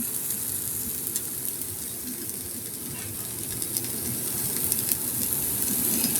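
A lentil and oat paratha fries slowly in a pan over low heat, giving a soft, steady sizzle and hiss that holds throughout without a break, faint and with no talking.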